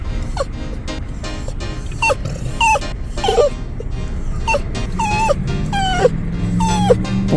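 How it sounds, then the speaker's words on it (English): A small dog whines and yips repeatedly at an outdoor wine tasting, high wavering whimpers in irregular bursts, close and fairly loud over a murmuring background. "The whiny dog at the wine tasting."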